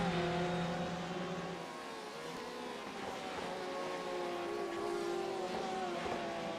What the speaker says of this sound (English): Can hear a Porsche screaming away behind him.